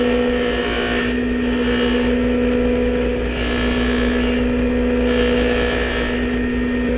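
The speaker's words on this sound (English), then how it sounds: "Buff them off on the dry wheel." A dry buffing wheel polishes small bracelet pieces, giving a loud, steady motor hum and whir that runs unbroken, with the grinding of the work rising and falling against it.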